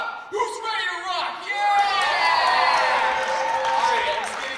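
School musical show audience cheering, with loud whoops and sustained shouts from a crowd of kids and adults rising together and holding for several seconds.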